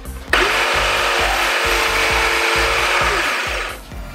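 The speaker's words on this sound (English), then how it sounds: "I could probably use that blade, but it's not really what you're supposed to use when you cut PVC" A Rockwell BladeRunner X2 tabletop saw fitted with an aluminum-cutting blade slices through PVC pipe, a loud close whine with a rough cutting rasp that holds for about three seconds before winding down, no speech.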